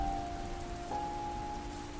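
Light rain falling steadily, a soft faint hiss with a few steady tones underneath and a small tap near the end, no voices.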